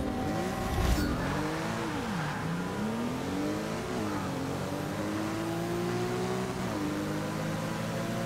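A 2011 BMW racing in Forza Motorsport 6, its engine revving up and down through gear changes, close and loud, the pitch climbing and dropping repeatedly over a steady drone.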